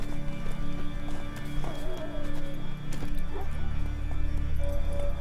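Roach, a horse in The Witcher 3, gallops with loud, rapid clip-clop hoofbeats over a busy game soundscape, with a brief whinny-like call partway through.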